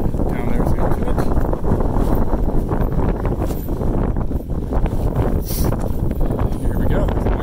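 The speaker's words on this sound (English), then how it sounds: "The wind is picking up." Strong wind buffets the microphone on a high mountain ridge near the summit of Mt Sherman, a continuous loud rumbling roar with gusty swells throughout.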